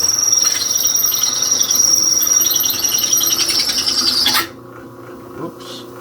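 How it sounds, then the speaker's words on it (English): A half-inch drill bit bores a hole into a VW air-cooled bus engine case, giving a steady, close grinding rasp with a high squeal for about four seconds before it stops abruptly into near quiet. "drill a hole"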